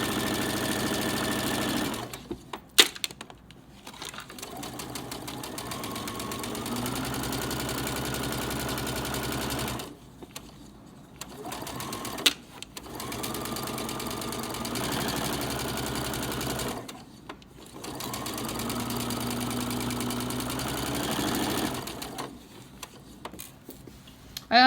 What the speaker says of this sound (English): I'm going to continue to sew with my fabric aligned with my blue tape